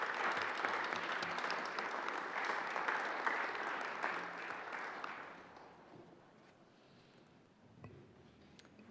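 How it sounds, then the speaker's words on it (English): A Senate chamber fills with sustained applause from legislators for about five seconds before it fades to quiet room tone with a faint stray sound near the end. "colleagues, please, let's begin by giving them a round of applause."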